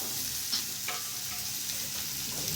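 A spoon stirs sugar through dal and drumstick leaves in a sizzling pan, a steady soft frying hiss with faint scraping, close and alone without talk.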